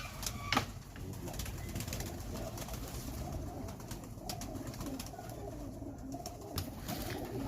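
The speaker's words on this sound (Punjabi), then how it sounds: "ਲੋ ਜੀ, ਇੱਕ ਹੋਰ ਕਬੂਤਰ ਹੈ ਜੀ" Breeder pigeons coo in a low, steady murmur through a noisy loft, with occasional sharp knocks and clicks over constant background hiss.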